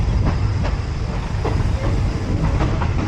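A regular-class passenger train running from Bangkok to Ayutthaya, with a steady loud rumble and rhythmic clickety-clack of the wheels over rail joints, heard from inside the carriage throughout.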